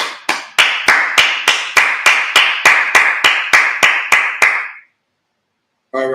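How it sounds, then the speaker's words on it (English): Rhythmic group clapping at a Sabbath service, about fifteen loud unison claps at a steady pace that stop abruptly, followed by silence and then a voice beginning to speak. "let's clap it up"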